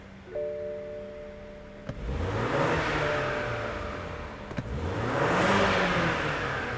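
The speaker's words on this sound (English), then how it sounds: "So let's hear that engine." A turbocharged 2016 BMW X1 xDrive 28i engine revs twice, each rev climbing and falling in pitch over a steady idle, fairly close.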